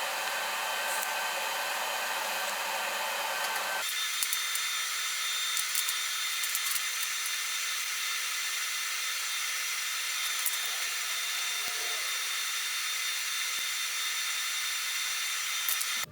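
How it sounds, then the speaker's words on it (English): Welding to fill a gap in a Honda VFR motorcycle dash, a steady, loud, blowing hiss that runs throughout, with its tone shifting slightly after a few seconds and faint clicks along the way. "I'll just fill that with weld material, filler"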